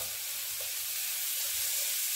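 Vegetables sauté in a pan with a steady, soft sizzle that runs unbroken throughout, close by and fairly quiet, with no talking.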